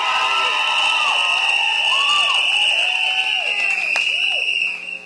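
Crowd at a campaign kick-off rally in St. Augustine cheers and shouts, with whoops and a shrill sustained whistle or horn tone riding over the noisy, continuous roar.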